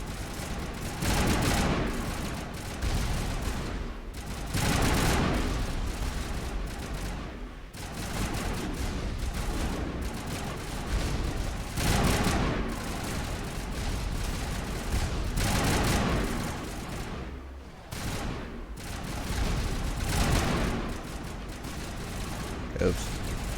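Rapid bursts of gunfire at a shooting gallery in the game Mass Effect Legendary, loud and repeated in clustered volleys across the whole stretch with brief pauses between.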